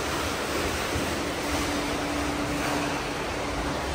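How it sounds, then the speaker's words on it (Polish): Waves break and surge near a hotel pool area in Kosovo, a loud, continuous roaring wash mixed with wind buffeting the microphone, with no talking. "To jakaś fala."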